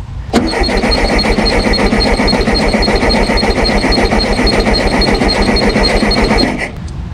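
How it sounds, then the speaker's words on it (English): A 1974 Volkswagen Super Beetle left abandoned cranks over with starting fluid in the carburetor, a loud, steady, close starter churn running continuously for several seconds without firing, then cutting off abruptly. "So I'm gonna go ahead and turn the engine over a little bit and see if our fuel filter picks up."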